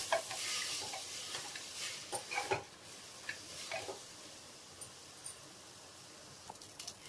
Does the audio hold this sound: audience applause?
no